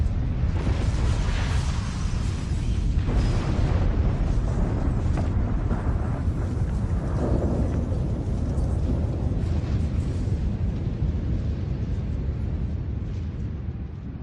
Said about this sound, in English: there goes the Great Wyzen, going out in a beautiful explosion that probably shakes the world 10 times over